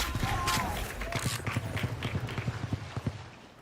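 Footsteps in the Valorant game tap out a quick, steady rhythm of thuds under a tournament broadcast's ambient noise, with faint voices in the background.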